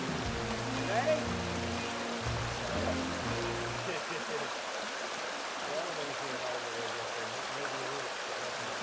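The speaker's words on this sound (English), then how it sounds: "How to ford a creek without getting wet." Creek water rushes steadily along a hiking trail, a continuous close broadband wash, with a low humming or voice-like tone in the first few seconds before the flow carries on alone.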